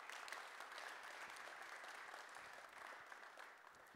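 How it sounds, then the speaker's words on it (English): A roomful of people clapping steadily at a DjangoCon Europe 2019 conference talk, a dense wash of applause that holds at an even level throughout. "give them a round of applause again"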